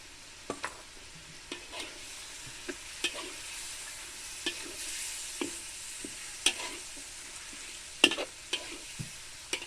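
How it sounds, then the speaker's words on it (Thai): Chicken stir-fries in a hot pan with kaffir lime leaves, spices and chilli for a spicy dish with winged beans, with a continuous soft sizzle broken by frequent sharp clacks and scrapes of a spatula, no voices. "ผัดให้หอมไปเลยครับ"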